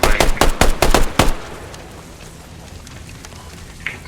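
A rapid burst of gunfire in the video game Squad, several sharp shots in quick succession, followed by quieter background noise and a faint click.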